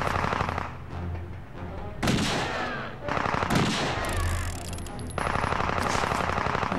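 Bursts of video-game gunfire in Indiana Jones and the Staff of Kings, with rapid machine-gun volleys in several loud clusters separated by brief pauses, plus faint background game sound.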